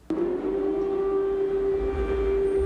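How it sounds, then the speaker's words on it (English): A loud, steady air raid siren tone holds at one pitch throughout, with a low rumble beneath it. "First came the sirens"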